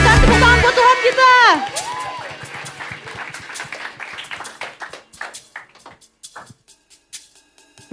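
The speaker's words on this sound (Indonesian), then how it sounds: "Berikan tepuk tangan buat Tuhan kita." A church congregation applauding for God at a youth worship service, a short sung phrase giving way to scattered clapping that thins into sparse, fading claps.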